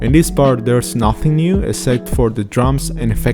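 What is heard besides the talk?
No everyday noise stands out behind the speech.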